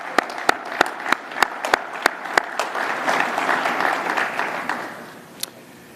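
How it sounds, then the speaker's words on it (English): Crowd applause at a Basketball Manitoba awards presentation honouring All-Stars, starting with a few sharp distinct claps that swell into a dense, steady ovation across the hall before fading slightly at the end. "I think it's worth one more round of applause for the All-Stars here today"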